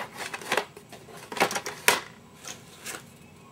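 A paper cutter trims cardstock for a 6x6 mini album, giving a handful of short, crisp slicing strokes close by, spaced irregularly over a few seconds with no talking.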